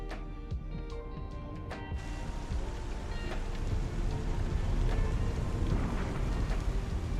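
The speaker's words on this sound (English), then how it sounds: "Raining." Rain falls in the Star Citizen video game, a steady broadband hiss that thickens after a few scattered drips and tones, running continuously at moderate loudness with no talk.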